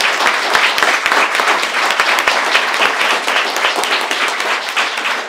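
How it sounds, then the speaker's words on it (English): A big round of applause from a panel discussion audience honoring two guests, dense steady clapping that holds evenly loud throughout. "just a huge round of applause for our two guests."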